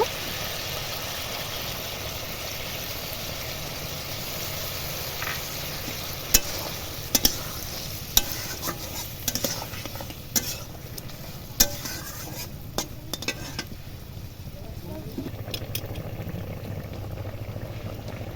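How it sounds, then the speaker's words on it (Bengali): A ground spice paste fries in a pan for a vegetarian ridge gourd dish, giving a steady low sizzle and bubbling with intermittent sharp clacks of a spatula against the pan, close, and no speech. "এবার যে মশলাগুলো বেটে রেখেছিলাম সেই মশলাগুলো দেব"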